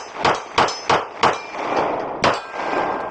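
A magazine goes into a Sig P365 FUSE pistol with a series of sharp metallic clacks, four quick hits and then one more after a short pause, close and loud.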